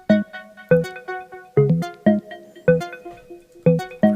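Two Ableton synthesizers play together, a low punchy bass-like stab pattern under brighter plucked notes, repeating in a simple syncopated groove, clear and alone.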